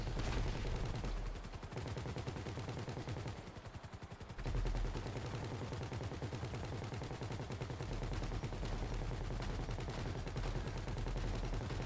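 Dense, continuous gunfire and explosive blasts from a heist finale in GTA V Online, with missile explosions amid rapid shots; the barrage stays loud throughout, easing briefly partway before resuming at full intensity.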